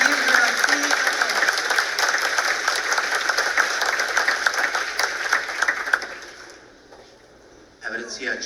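An audience applauds continuously for several seconds, dense and fairly close, then the clapping fades out before a brief burst returns at the end.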